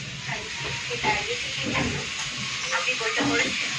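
Lentil fritters (dal bora) frying in a pan, giving a steady hiss and sizzle with faint scraping, while voices talk over it.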